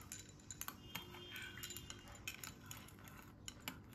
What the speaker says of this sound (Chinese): 接着用勺子搅拌搅拌，让陈醋、枸杞以及我们冰糖充分的混合在一起